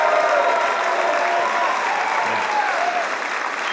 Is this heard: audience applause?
yes